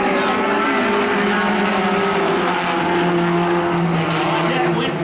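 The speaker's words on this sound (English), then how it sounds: "That wins the drag race to turn one out around Childs and into the lead" Race cars roar around Wiscasset Speedway in Maine, a dense, continuous loud engine drone with shifting pitches as several cars run together, with a commentator talking over it.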